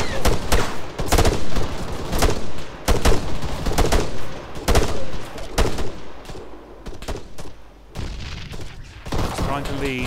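Heavy machine gun fire in ArmA 3 comes as repeated loud bursts and volleys of sharp cracks, with shorter gaps between fusillades, under occasional talking.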